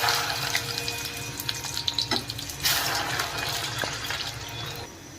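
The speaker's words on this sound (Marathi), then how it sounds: "की तापलेला आहे त्या तेलामध्ये आपण ही भेंडी आता तळून घेणार आहोत।" Okra frying in a pan of hot oil for Punjabi bhindi, giving a steady watery hiss and crackle that rises and falls, with a few sharper pops. No one speaks.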